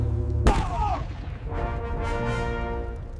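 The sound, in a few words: cannon artillery fire in a naval battle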